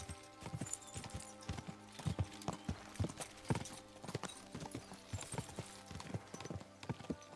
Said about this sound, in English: This horse hates me.